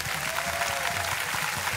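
A studio audience applauds on a televised singing competition, a thick, continuous wash of clapping and light crowd noise, fairly loud and steady throughout.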